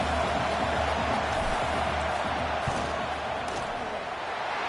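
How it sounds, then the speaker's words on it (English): Stadium crowd in NCAA Football 10 rumbles loudly and continuously before a field goal attempt, a dense sustained roar with a low hum underneath, steady throughout with no pauses. "This crowd trying to do its part to get inside the kicker's head."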